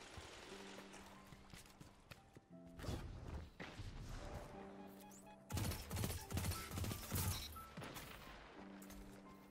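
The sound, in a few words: gunfire from players shooting guns in Destiny 2, a video game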